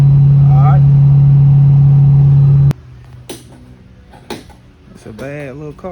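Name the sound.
1955 Ford Thunderbird car driving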